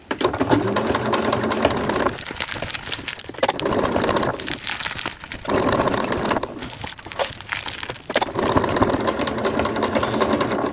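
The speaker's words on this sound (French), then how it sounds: "j'ai fini de piquer le premier morceau" A sewing machine stitches fabric pieces for a handmade caterpillar plush toy, running in steady loud bursts with short pauses between seams, and no talking over it.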